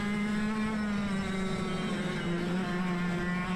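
Racing go-karts, 100cc and shifter karts, drone past on a practice track, a steady high-pitched engine whine that stays loud and close and holds an unbroken buzz throughout.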